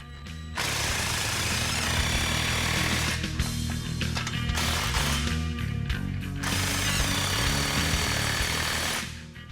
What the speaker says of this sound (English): Now we're going to tighten all the clamps, start at the front, then work your way back.